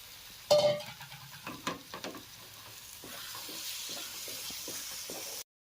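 Potato stuffing for aloo paratha, seasoned with salt and chilli, being stirred and mixed in a hot pan, with a soft sizzle under repeated scraping and stirring strokes, close and fairly quiet, no talking.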